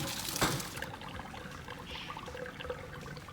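Cooking liquid from boiled beans pours out as they are drained, a faint splashing trickle with a brief louder gush near the start.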